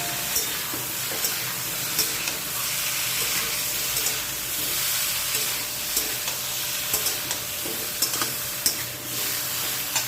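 Cut sweet pumpkin and vegetables sizzle and crackle in a hot pan for the whole stretch, with a constant hiss and small pops from stirring.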